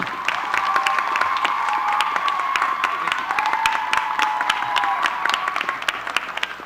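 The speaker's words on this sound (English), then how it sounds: "Let's give a warm round of applause" Audience applause at a Dr. Martin Luther King Jr. commemorative vigil, a steady, sustained wash of clapping from a crowd with a few faint cheers mixed in.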